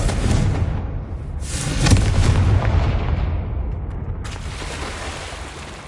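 Booming blasts from a Confringo blasting spell in the Hogwarts Legacy game, a strong explosion with a rumbling tail followed by a second burst, loud and without speech.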